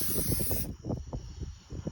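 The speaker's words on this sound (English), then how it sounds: "Spray everything down nice." A cooking-oil spray hisses briefly and loudly at the start as a coating goes onto a Big Wood smoker outdoors, then it stops and lower rustling follows.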